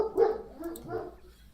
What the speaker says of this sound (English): The dog in the back.